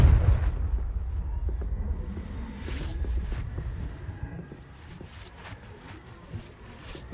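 A Confringo blasting spell explodes in the Hogwarts Legacy video game, with a heavy low boom up front followed by a rumbling tail and scattered lighter cracks and bursts.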